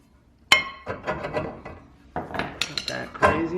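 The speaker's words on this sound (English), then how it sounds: "And then, I think we want to get this rotor off. It always needs a bit of a persuasion." Rusted brake rotor being knocked off the rear of a Kia Forte: a sharp metallic strike followed by a series of irregular clanks and ringing knocks, close and loud, with no talk.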